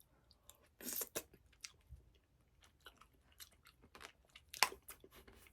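A person chews and bites into a homemade strawberry dish, with close, wet crunching and smacking bites coming in irregular bursts against a quiet background.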